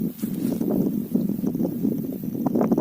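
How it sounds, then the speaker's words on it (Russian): A strong headwind on the wide Dniester River buffets the microphone with a continuous low, gusting rumble that rises and falls without pause. "сегодня ветрено, и ветер встречный, идти сложно."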